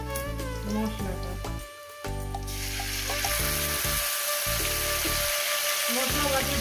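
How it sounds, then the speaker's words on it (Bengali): Spice paste for a Bengali parshe fish curry with potato and taro sizzles and fries loudly in a hot pan, a continuous crackling hiss, with a voice and tonal sounds running over it. "এবার এটাকে সুন্দর করে কষবো মিনিমাম 3-4 মিনিট ধরে"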